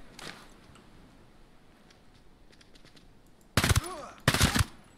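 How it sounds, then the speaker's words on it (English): Two loud, close bursts of gunfire near the end, in the video game Ghost Recon Breakpoint, following a few seconds of quiet background ambience with faint clicks. "But I think they heard a shot."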